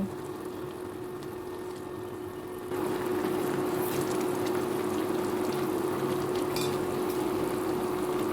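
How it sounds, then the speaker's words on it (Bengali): A pot of vegetable curry with taro stolons and sponge gourd boils on the stove, giving a steady bubbling hiss over a low hum that grows louder and denser after a few seconds. "তরকারি ফুটে উঠলে ঢাকনা নামিয়ে আগে থেকে ভেজে রাখা পুঁটি মাছগুলো দিয়ে দিব"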